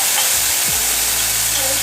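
Onion paste sizzling steadily in a pan for a masala kurma, a loud continuous hiss of frying close up, with no talking.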